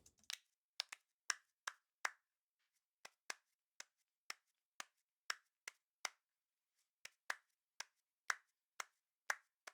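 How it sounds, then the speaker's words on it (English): Hand claps are played as a percussion part in a minimalist music mix, about twenty dry, crisp claps in a loose, steady rhythm, each one short and isolated against silence. "This is me clapping."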